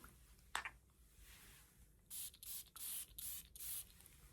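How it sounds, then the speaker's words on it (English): Five rapid hissing bursts of BDK Oud Abramad perfume sprayed from an atomizer, close and distinct, following a brief click of handling, with no talking. "I'm going to go ahead and spray some on."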